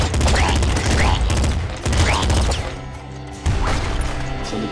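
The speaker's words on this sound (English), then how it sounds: "I think I will just stick to the assault rifle for now." Assault rifle gunfire in the Nuclear Throne video game, rapid bursts of shots crashing in quick succession, loud and close, with brief pauses between volleys and game sound effects layered around them.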